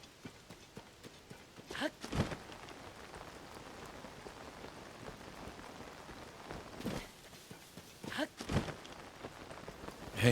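Steady rain pattering across a surface in the video game Cities: Skylines II, a constant dense hiss with a few brief louder bursts, heard alone without talk.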